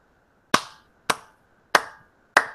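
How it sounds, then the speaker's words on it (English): Four sharp single hand claps, evenly spaced about half a second apart, demonstrate the Wing Chun Pak So, each crisp and isolated against near silence. "It's a clap. Uh, That's all Pak So really means. It's the clap."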